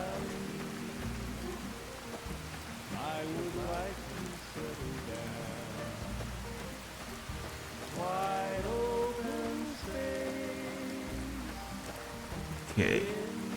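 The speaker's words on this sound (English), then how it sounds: "So apparently there's a sandstorm here and it's raining." Steady rain patters across the ground during a sandstorm in Fallout: New Vegas, a continuous close wash of droplets running throughout with a few brief louder bursts.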